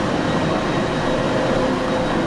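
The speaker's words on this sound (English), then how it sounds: "Here's my next train, a Transpennine diesel service from Liverpool Lime Street to Hull, travelling via Huddersfield and Leeds." A Transpennine diesel passenger train from Liverpool Lime Street to Hull rumbles steadily, heard as a constant, close hum and drone throughout.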